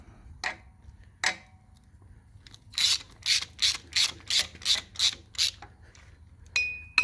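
Ratchet clicking while torquing bolts on a 1968 Ford 2000 tractor during an engine rebuild: two separate clicks, then a steady run of about nine quick, evenly spaced ratchet strokes, close and clear, with no talk.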